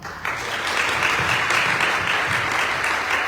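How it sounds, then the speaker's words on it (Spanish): Conference audience in Honduras applauding to welcome a speaker: steady, dense clapping from a crowd that starts abruptly and keeps an even level throughout. "creo que podemos recibir a Fernando con un aplauso"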